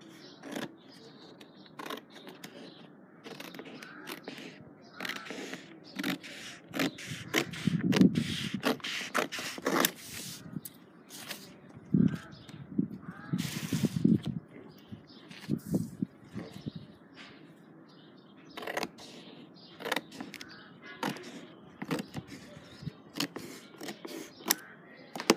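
Scissors cut through shirt fabric in scattered snips and scraping strokes, close and soft, with rustling handling noises between cuts.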